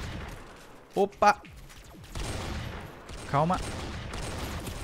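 Gunfire in the Roblox shooter Arsenal: a few sharp bursts of shots early on and another burst later, over steady game noise, with someone speaking briefly between them.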